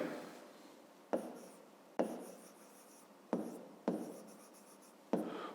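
Handwriting a maths solution with pen or pencil, heard as a series of sharp onsets each followed by a scratchy trail of strokes. The bursts come about six times at uneven intervals, close and quiet, with no voice over them.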